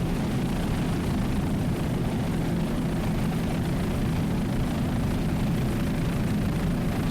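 Wild Rose, a 28-foot Sensation P5 class racing powerboat, runs at Key West, its steady engine drone heard from a distance as a continuous, even roar with a broad low rumble and no talk.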